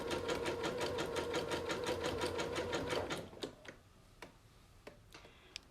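Sewing machine zigzag stitching around a fabric edge: a fast, steady mechanical ticking and whirr running near and loud for about three seconds, then stopping, followed by scattered light clicks and handling sounds.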